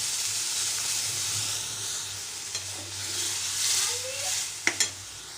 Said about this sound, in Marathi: तेल तापल्यानंतर यामध्ये थोडेसे शेंगदाणे आणि 1 मिरची कट करून टाकायची